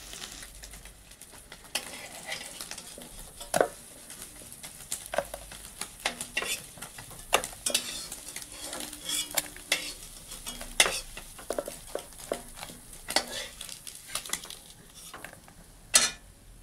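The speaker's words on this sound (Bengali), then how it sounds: "তো ভাজা প্রায় হয়ে গেছে, এবার নামিয়ে ফেলবো।" Food frying in a pan while being stirred, a steady sizzle broken by frequent scraping and clattering strokes of a utensil against the metal, close and fairly loud.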